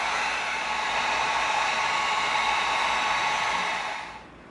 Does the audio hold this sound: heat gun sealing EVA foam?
yes